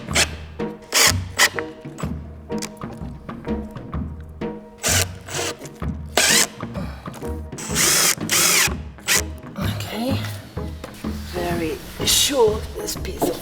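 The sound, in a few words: power drill driving a screw to fix fabric in the middle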